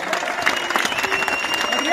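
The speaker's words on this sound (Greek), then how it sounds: "Τον Λούπου, ένα χειροκρότημα." A crowd claps briskly for footballer Loupou at an award ceremony in Corinth, quick layered hand claps building close by, with a voice speaking over them.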